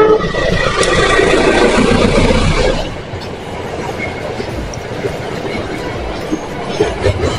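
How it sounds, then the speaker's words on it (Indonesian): A passing train crossing the Cirahong bridge between Tasikmalaya and Ciamis rumbles and clatters loudly for a few seconds, then fades to a lower, steadier rolling rumble with faint metallic squeals. "Ada kereta tuh. Ada kereta."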